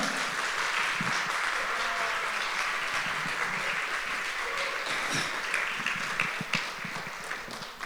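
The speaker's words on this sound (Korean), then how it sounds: "힘찬 박수와 격려로 함께 큰 박수 부탁드리겠습니다" Audience applause in a church hall during a staff training event, sustained dense clapping that fills the room steadily and tapers slightly toward the end, with no voices over it.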